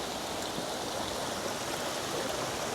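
A waterfall-fed stream in Cali, Colombia, flowing with a steady, even rushing and splashing wash, moderately quiet and unbroken, with no voices.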